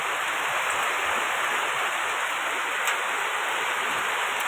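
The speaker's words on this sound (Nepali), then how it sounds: "अहिले कस्तो डरलाग्दो पानी पर्दैछ। लाइटनिङ थन्डनिङ पनि हुँदैछ।" Heavy rain pours steadily during a thunderstorm, a dense, loud, unbroken hiss of water close by with no talk over it.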